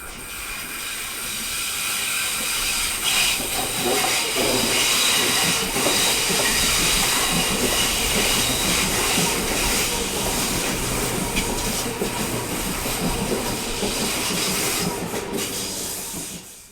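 An Auckland AM class electric train in operation gives a loud, close, continuous rumble and hiss of wheels and motors, steady throughout with no voices.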